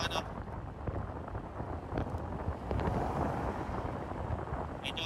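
Wind buffets an outdoor microphone in a steady, loud rumble with gusty swells throughout, with no clear voice above it.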